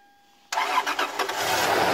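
An old Japanese off-road car's engine catches abruptly after near silence and settles into a loud, rough idle close by, with no talk.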